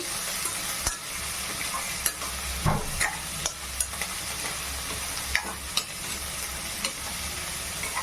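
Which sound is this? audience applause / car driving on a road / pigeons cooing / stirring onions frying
stirring onions frying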